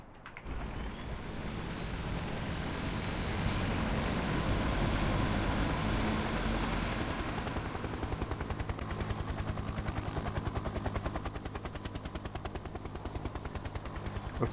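A helicopter in the Factorio video game flies with a loud, steady rotor thrum that stays continuous and rapidly pulsing throughout, alone without any talk.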